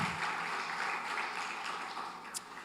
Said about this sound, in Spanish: el aplauso de la gente maravillosa que está hoy aquí reunida en nuestras instalaciones y que con este aplauso les da la bienvenida